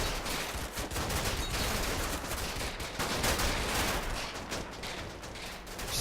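Sustained gunfire in the WWII Normandy war game Combat Mission: Battle For Normandy, with dense overlapping rifle and machine-gun bursts forming a loud, continuous fusillade throughout, no voices.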